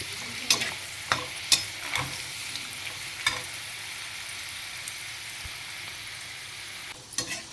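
Okra frying in oil for a crisp bhindi fry, a steady bright sizzle broken by several sharp pops and stirring clinks, close and fairly quiet, with no voices.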